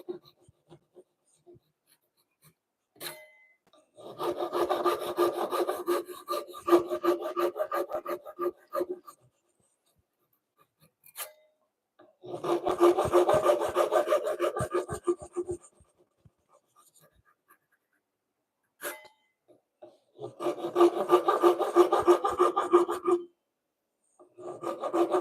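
A hand chisel pares wood in three long bursts of dense scraping and rasping strokes, each lasting several seconds, close up and separated by quiet pauses with a few light taps.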